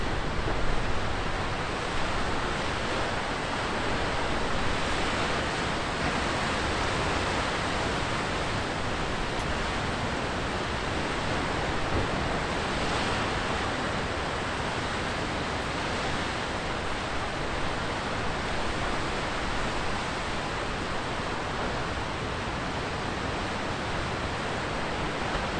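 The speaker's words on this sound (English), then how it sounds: "watch the waves sweeping into a large rock just offshore from the lighthouse" Ocean surf on the southern Oregon coast, waves sweeping into a large offshore rock near a lighthouse, heard as a broad, constant roar of breaking water and wash with no distinct individual breakers and no voices.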